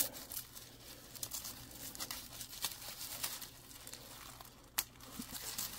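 Scotch tape is handled and torn close by in quiet surroundings, giving soft crinkling and rustling with scattered small crackles and one sharper snap near the end.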